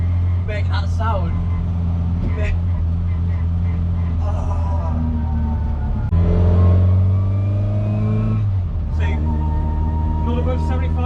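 Classic first-generation Mini Cooper S engine revving close by in repeated rising and falling bursts, each climbing in pitch as the throttle opens, with people talking over the engine note throughout.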